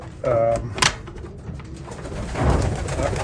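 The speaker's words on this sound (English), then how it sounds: "I have ace pigeons in here." Racing pigeons coo softly inside a loft, with a short clatter and faint background movement.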